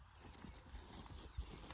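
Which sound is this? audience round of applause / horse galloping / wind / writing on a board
horse galloping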